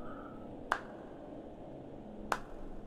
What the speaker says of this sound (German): Der Bär klatscht.